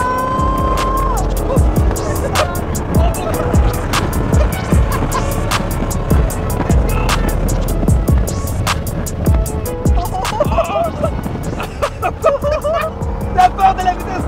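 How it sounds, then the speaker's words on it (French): A car drifts at speed, its engine and tires roaring and rumbling continuously with rapid ticking and occasional squeals. Excited passengers talk and shout throughout. "On fait de la drift, tout le monde!"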